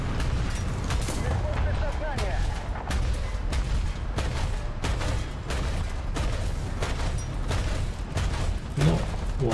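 Tank cannons boom repeatedly in a Swedish-tank battle video game, heavy blasts and rumbling shots recurring every second or so over a dense, continuous battlefield din.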